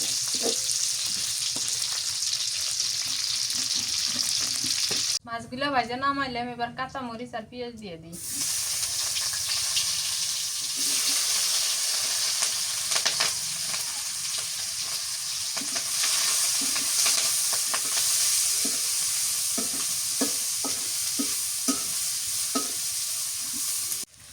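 Fish sizzles steadily in a frying pan in a home kitchen, a continuous close hiss with stirring, broken for a few seconds by a brief tonal voice or music passage.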